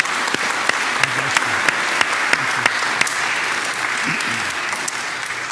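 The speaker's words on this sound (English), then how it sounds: "A round of applause." A church congregation applauding after Sunday Mass, dense clapping with sharp individual claps standing out, steady and sustained, with faint voices murmuring underneath.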